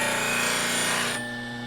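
A wood-turning tool is swept across a grinder wheel during sharpening, giving a steady, close grinding hiss with a constant motor hum that eases off near the end.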